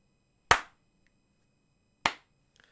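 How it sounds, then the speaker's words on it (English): Two single sharp hand claps spaced well apart, each crisp and close, separated by silence, with a few faint small ticks at the end. "Slow clap."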